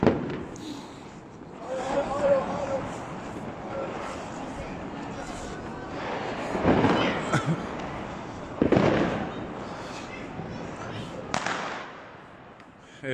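Children throw small firecrackers on New Year's Eve in Vienna: scattered sharp bangs and crackling bursts go off near and farther away, several standing out loudly, over a background of crowd talk.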